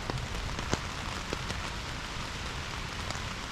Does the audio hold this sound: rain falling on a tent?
yes